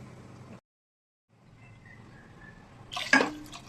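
Water is poured by the glass into a pot of basmati rice, heard as one short, close splash near the end after quiet moments and a brief silence.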